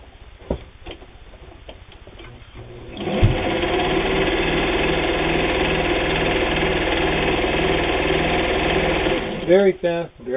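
A New Home electric tabletop sewing machine stitches through flannel-lined denim, its motor starting with a jump and running steadily fast with a rapid, even needle rhythm, loud and close, after a few seconds of quieter handling and brief talk.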